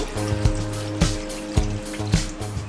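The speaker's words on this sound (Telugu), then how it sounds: "వాటర్ కూడా ఇందులో వేసేయాలి." Water poured into a pot of goat trotter curry with onions and milk, a steady liquid trickle and fill sound broken by a few soft knocks and splashes, close and moderately quiet, with no talking.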